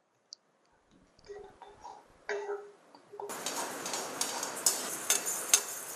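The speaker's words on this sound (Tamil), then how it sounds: "பாசிப்பருப்பு நல்லா சிகப்பா வாசனை வர வரலையும் பாசிப்பருப்பு வறுக்கணும்" Moong dal dry-roasts in a pan for a seerālam snack, opening with a few light clinks and stirring taps, then turning into a continuous dry, gritty rattle and scrape of lentils moving over hot metal.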